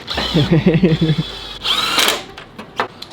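A power tool with a rocker switch runs in short whirring bursts during work on a Silverado truck, close and fairly loud, with someone talking over the first part.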